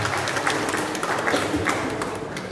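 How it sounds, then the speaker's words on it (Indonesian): Audience applause at a church anniversary celebration for a city council of churches, a dense, steady wash of clapping filling the whole stretch without pause. "Tepuk tangan dulu buat PKSG Kota Sukabumi."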